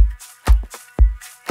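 Electronic drum pattern with a layered loop in an electronic track, punchy deep kicks and snappy hits repeating quickly in a tight, loud groove.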